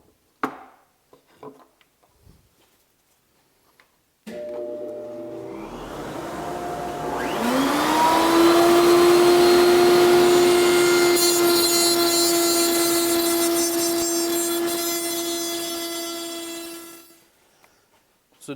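Miter saw spinning up with a rising whine and running steadily as it cuts a sliding dovetail in wood, a loud sustained tonal drone lasting about ten seconds before winding down, preceded by a few faint handling clicks.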